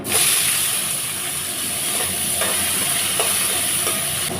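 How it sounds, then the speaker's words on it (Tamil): Chopped shallots sizzle in a hot pan with lentils, made into a stem amaranth greens stir-fry: a loud, constant frying hiss with soft stirring scrapes every second or so, and no talk. "ஒரு கைப்பிடி அளவு சின்ன வெங்காயம் வந்து கட் பண்ணி வச்சுருக்கேங்க சேர்த்திக்கலாம்"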